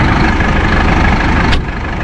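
A dusty farm tractor idles steadily in the open during early cereal work, its engine a continuous rumbling drone that stays loud and even throughout, with a brief brighter hiss near the end.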